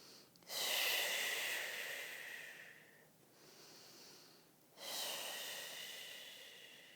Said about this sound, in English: breathe here for about 10 breaths